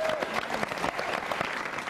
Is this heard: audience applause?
yes